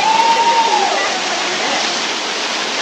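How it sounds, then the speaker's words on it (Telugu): A powerful waterfall with water rushing down forcefully roars as a steady, loud broadband wash close by, with a brief whistle-like tone early on and no clear talk. "చూడండి నీళ్ళు ఫోర్స్గా వస్తున్నాయి."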